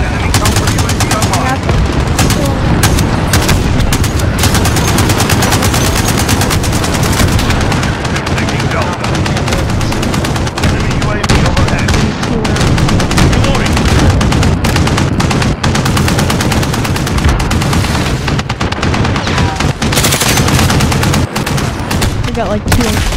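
Near-constant rapid gunfire from a Modern Warfare match played with sniper loadouts, dense bursts and shots running loud throughout with little pause, game voices faintly mixed in.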